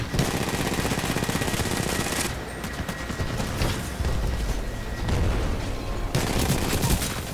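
Rapid automatic gunfire from the video game Titanfall 2, dense bursts of shots crackling almost continuously with brief gaps, loud and close.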